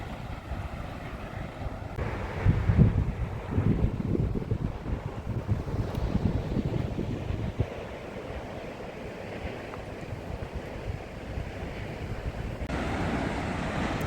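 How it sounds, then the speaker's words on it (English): Water rushes out of a fairly big dam at Breton Lake, heard as a continuous broad roar outdoors, louder at first and then steadier, mixed with wind buffeting the microphone. "A lot of water coming out of there,"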